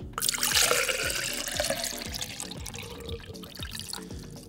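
Water poured in a steady stream into a vessel, with rhythmic glugging pulses and a bright splashing trickle throughout, close and moderately loud.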